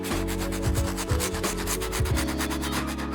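Stiff bristle brush scrubbing soapy UGG sheepskin boots in steady back-and-forth strokes, a close, continuous rubbing rasp with rhythmic pulses and no talk.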